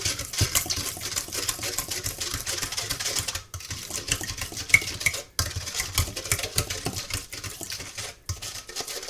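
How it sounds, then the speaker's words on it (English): Banana bread batter mashed and stirred in a bowl with a potato masher, a steady close run of clattering, scraping strokes with two brief pauses. "I use a potato peeler, potato masher, and I just mix that all in"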